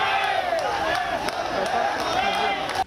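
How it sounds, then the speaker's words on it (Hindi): Crowd in a funeral procession for a martyred army colonel, many carrying the tricolour, claps and shouts slogans together, a dense, continuous roar of raised voices with scattered sharp claps throughout. "लोग तालियां बजाते और नारे लगाते हुए पार्थिव शरीर के साथ चलते रहे।"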